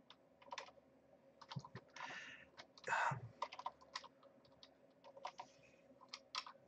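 Rapid typing on a computer keyboard, a fast irregular stream of close key clicks with a few heavier presses, over a low steady background hum.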